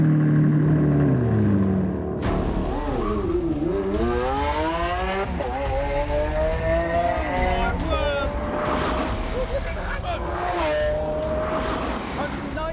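Rimac electric hypercar, Lamborghini Aventador and Honda NSX racing, loud engines and motors whining and rising through gears with a swooping pass-by, as someone talks over the noise.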